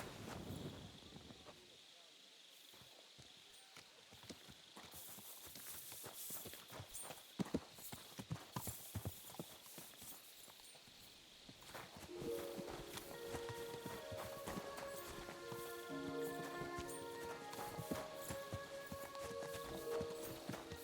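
Horse hooves clip-clopping in Kingdom Come: Deliverance II, a steady stream of close, crisp hoof strikes on hard ground that continues throughout, with a soft musical score entering in the second half.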